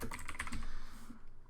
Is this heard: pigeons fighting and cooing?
no